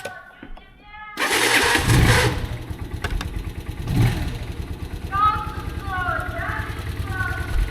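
A motorcycle engine cranks and catches loudly near the microphone, a rough, coughing start that settles into a running idle with bird chirps and faint voices behind, before departing on a solo road ride in Gansu, China.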